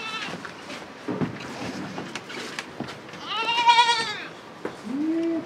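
Young Haryana goat kids bleat on a goat farm in Bangladesh, a loud drawn-out cry near the middle followed by a shorter call at the end, over scattered thumps and farmyard background noise.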